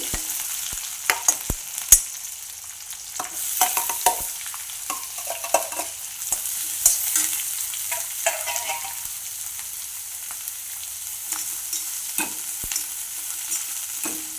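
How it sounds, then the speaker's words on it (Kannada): Onions fry in a hot pan while being stirred for soya manchurian, a continuous bright sizzle broken by frequent sharp spatula scrapes and taps, close and fairly loud with no talking. "ಈರುಳ್ಳಿ ಸ್ವಲ್ಪ ಫ್ರೈ ಆಗಲಿ"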